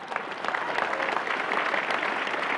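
Steady applause from a CPAC 2016 conference audience, a dense wash of clapping that holds evenly for a couple of seconds with no voices on top.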